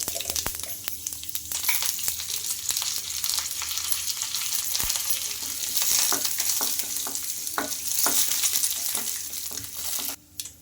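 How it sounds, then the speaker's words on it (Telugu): Urad dal, chana dal and tempering spices fry in hot oil in a pan for a chutney, giving a steady, close sizzle with scattered scraping stir clicks throughout and no talking. "ఇంకా పోపు అయితే పెట్టేసుకుంటున్నానండి చట్నీకి"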